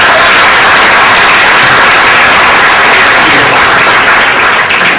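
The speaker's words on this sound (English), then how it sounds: "Round of applause, please." Loud, dense applause from an audience at a Yorktown Chamber of Commerce honoring event, a steady wash of clapping filling the room without a break for several seconds.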